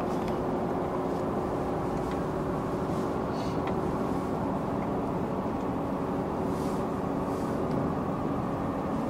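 A new four-wheel-drive Ram 3500 pickup cruises along winding roads, with a steady low engine and road drone heard from inside the cab and a few faint rattles.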